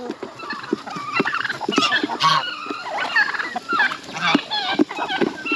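Repeated turkey gobbles ring out close by, several rapid warbling calls overlapping through the clip with a busy farmyard background.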